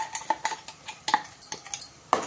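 A spoon stirs freshly ground green chilli paste (about twenty green chillies) into greens in a metal cooking pan, giving a run of sharp, irregular clinks and scrapes that sound close and fairly loud, with no talking.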